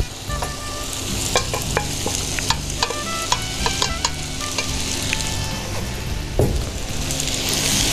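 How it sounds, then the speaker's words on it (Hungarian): Cooked pasta is reheated in hot butter in a frying pan, giving a steady loud sizzle with frequent clicks and scrapes of stirring throughout. "A kifőzött tésztánkat átmelegítjük a vajba"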